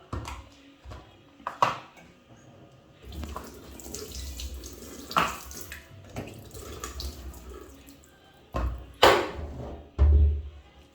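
Water running from a tap into a container for mixing concentrated fabric dye for adire tie-dye, a few intermittent splashy pours and bursts over a quiet background with clinks of a vessel.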